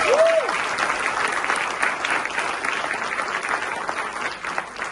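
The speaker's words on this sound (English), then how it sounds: "Give yourself a big round of applause for making it here today." An audience applauding at a stage event, dense continuous clapping that stays loud for the whole stretch and slowly tapers slightly, with a brief whistle at the start.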